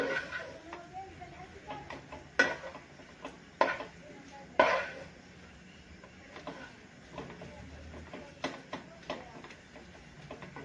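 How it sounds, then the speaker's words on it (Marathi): A coconut and jaggery barfi mixture is stirred and scraped in a kadhai, with soft scraping and occasional sharper clinks of the spoon against the pan repeating at an irregular pace, and a voice speaking faintly in the background. "जेवढं तुम्ही कढईमध्ये अशा प्रकारे परतून घ्यायच्यात तेवढी वडी आपली अशी छान होईल"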